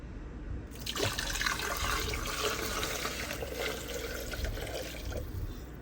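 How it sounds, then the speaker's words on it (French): Leftover water is whisked vigorously in a cooking pot while making a taro yellow sauce. It makes a continuous, close sloshing and splashing that starts abruptly and keeps going, with no talking. "Maintenant, on va encore fouetter le reste d'eau."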